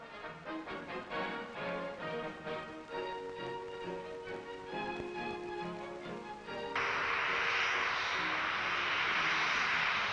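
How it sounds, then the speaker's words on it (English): A Hawker Siddeley Harrier VTOL jet aircraft, a fixed-wing jet, roars with a tonal engine whine that shifts pitch, then swells abruptly into a loud broadband jet rush. "The Hawker Siddeley Harrier carried out the first ever deck landings in August."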